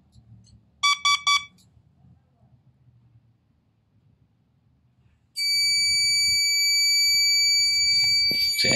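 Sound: alarm siren triggered by timer relay on alarm panel

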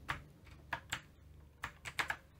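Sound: typing on a physical keyboard connected to a mobile

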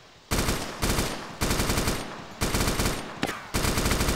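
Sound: gunfire in video game Arma 2

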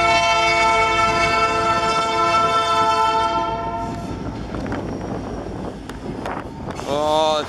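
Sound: train passing with horn

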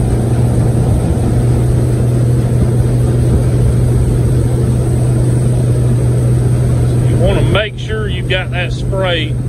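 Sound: 2023 Ultimate Panfish 1860 motorboat running at speed

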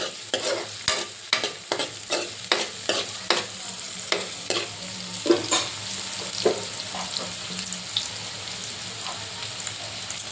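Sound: onion frying and being stirred until golden

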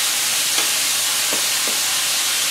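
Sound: sautéing onions, garlic, carrots and celery in a pan

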